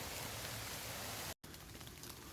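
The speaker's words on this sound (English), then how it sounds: "It is raining just a little bit harder than it has been the rest of the day." Steady rain falling outdoors on a wet day, a dense, even hiss throughout with a brief cut to silence partway through, no voices.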